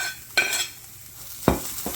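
Hash browns with onions and green peppers fry on a flat griddle, giving a steady close sizzle broken by two sharp scraping strokes of a spatula.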